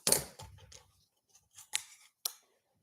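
Scissors cut along a traced letter A, a few close snips and short crunching strokes at irregular spacing with quiet gaps between.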